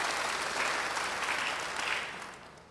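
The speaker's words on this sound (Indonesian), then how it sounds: "Beri tepuk tangan bagi dia." A church congregation claps steadily in a dense burst of applause, loud at first and fading slightly toward the end, with no talking over it.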